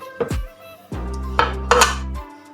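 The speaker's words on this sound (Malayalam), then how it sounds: "ഇനി നമുക്ക് കുക്കർ അടച്ച് വെയിറ്റ് ഇട്ട് കൊടുക്കാം." A pressure cooker lid is shut and its metal weight set on top, giving several sharp metallic clanks and ringing clinks in close succession, loud and near with no talking.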